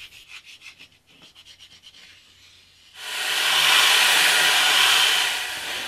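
Sandpaper rubs against a segmented wood ring spinning on a lathe, a soft rhythmic scraping at first, then a loud, continuous hissing rasp that swells and holds steady before easing slightly.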